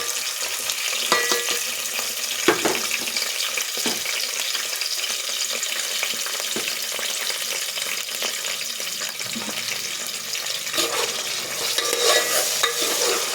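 Mixed vegetables for khichdi frying in oil in a pan, stirred steadily with a spoon, giving a continuous close sizzle broken by sharp scrapes and clinks of the utensil against the pan.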